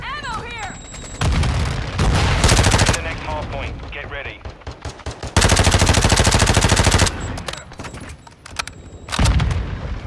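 Gunfire at a UAV in a video game, loud sustained machine-gun bursts in several long volleys separated by short pauses, with players talking in between.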